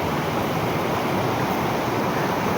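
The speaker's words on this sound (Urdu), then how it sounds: "شور دیکھو پانی دا" Roaring, rushing water pours in a constant dense broadband wash, loud and close with no pause, and no voices over it.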